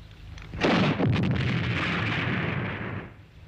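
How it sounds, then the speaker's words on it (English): A bazooka firing in an action film, one sharp blast that swells into a long roaring, rushing rumble and fades out after about two and a half seconds, loud and close with no talk. "A bazooka."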